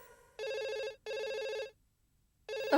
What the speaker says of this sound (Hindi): मर्सी, तुम्हारा फोन